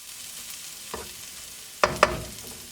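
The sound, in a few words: stirring chicken paella in the pan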